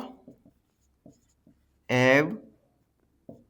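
A pen scratches out short strokes while writing math notation on a board, soft scattered taps and scrapes with a brief spoken word in the middle.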